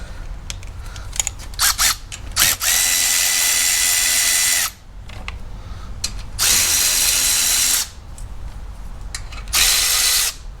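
A power tool spins bolts out of the shroud on a Kawasaki FR730V lawn mower engine, with loud whirring bursts of several seconds, separated by quieter clicks and handling noise nearby.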